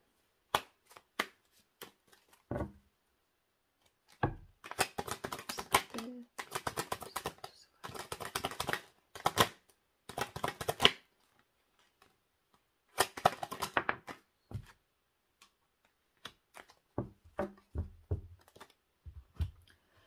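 Tarot cards are shuffled and drawn close by in quick bursts of papery riffling and slaps, separated by silent gaps and a few single flicks.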